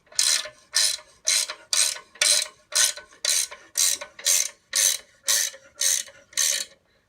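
A ratchet wrench turns the nut on an all-thread camshaft bearing puller under heavy load during a 6.0L Powerstroke diesel rebuild, giving twelve steady, evenly spaced bursts of close, loud clicking with short pauses between strokes.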